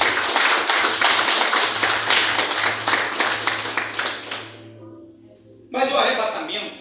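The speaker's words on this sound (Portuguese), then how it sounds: "palmas para Jesus" A church congregation claps hands in a steady, rhythmic beat over a low hum. The clapping dies away, and after a brief lull a fresh loud burst of applause erupts.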